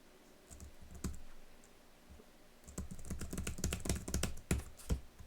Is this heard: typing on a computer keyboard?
yes